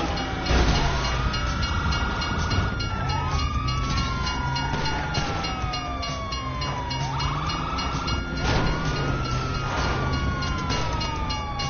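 A train rushes past in a police-chase video game, its rumble steady throughout while a police siren's rising and falling wail repeats loudly over it, with no talking.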